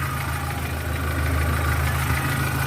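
A 1987 Suzuki Jimny engine idles steadily and quietly up close, a smooth even hum with no voices over it.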